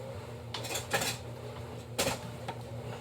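Metal utensils and cutlery clatter and scrape in a home kitchen during a hunt for a spoon, two main bursts of jangling rummaging close by, with quieter clinks between them.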